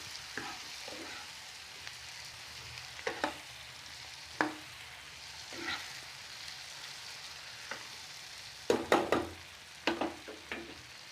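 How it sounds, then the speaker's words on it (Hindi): Chilli potato with chilli sauce stirred in a pan, a soft background sizzle punctuated by scattered spoon scrapes and taps, louder in a cluster near the end, close and without talk. "अब चिली सॉस, और मिक्स कर लेंगे।"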